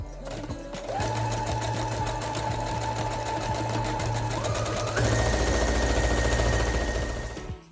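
A sewing machine hums steadily as it stitches a mustard-coloured fabric band for a pouf. The run is loud and continuous for several seconds and shifts to a faster, higher pace partway through.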